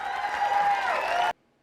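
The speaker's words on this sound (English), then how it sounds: "Why are you clapping?" Brief burst of applause and scattered clapping, loud and dense for about a second before cutting off sharply into silence.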